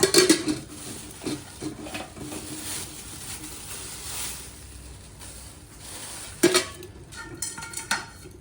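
Spoon and clay saucers clattering and being set down for a household ritual, with sharp clinks near the start and a burst of knocks and scrapes after a quieter stretch of soft handling.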